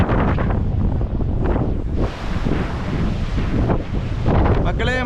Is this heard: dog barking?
no